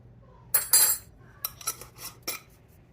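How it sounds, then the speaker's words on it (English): Oregano and onion salt seasoning are mixed in a bowl with a utensil, giving a few close scraping clinks of metal against the bowl, brief and separated by quiet gaps. "Again, I'm just going to mix that around in there."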